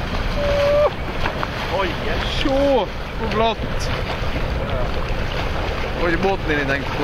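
A boat moving on open water outdoors, with a steady loud rush of water and wind buffeting the microphone, and voices or calls breaking in briefly over the noise.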